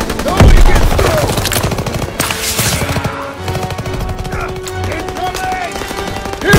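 Rapid machine gun fire from a World War II battle in the Call of Duty: WWII PC game, loud sustained bursts mixed with explosions and battlefield noise, close and dense throughout.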